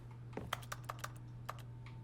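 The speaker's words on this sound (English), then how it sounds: "I like that my left clicks sound like keyboard." Mouse left-clicks in The Stanley Parable that sound like keyboard typing: about seven sharp, separate clicks in an irregular rhythm, close and crisp over a steady low hum, with no talking.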